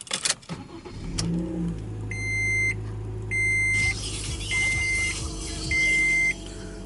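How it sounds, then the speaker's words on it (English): A 2012 Scion iQ small car engine cranks and catches, then idles steadily while a high electronic beep chimes repeatedly in regular bursts. "let me put the key in the ignition. You can hear how it starts up."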